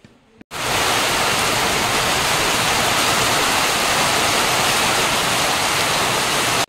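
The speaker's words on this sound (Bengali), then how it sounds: "বাইরে পুরো ধামাকেদার বৃষ্টি চলছে" Heavy rain pours down steadily outside at night, a dense, loud wash of noise that starts abruptly after a brief quiet moment and stays constant throughout.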